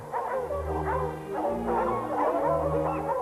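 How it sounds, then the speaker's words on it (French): A pack of hunting hounds bays together at a distance during a hunt in Picardy, overlapping drawn-out cries rising and falling in a continuous chorus. "Les chiens font une belle musique. La voix semble bonne."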